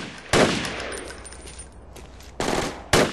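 Gunfire in the military video game Project Reality: three sharp bursts, one near the start and two close together near the end, over a steady background rumble.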